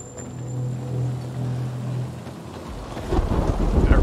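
Rain and thunder in Dying Light 2: a steady hiss of rainfall with a low rumble of thunder early on, then a louder, nearer crack and roll swelling toward the end, no voices.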